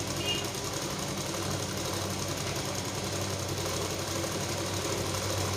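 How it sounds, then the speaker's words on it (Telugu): A sewing machine runs steadily through a straight seam at a beginner tailoring lesson, a continuous close whirring hum with a fast mechanical stitching chatter that never stops for the whole stretch, with no talking. "చూడండి, మళ్ళీ ఇక్కడ మీరు స్ట్రైట్గా ఈ స్ట్రైట్ కుట్టండి"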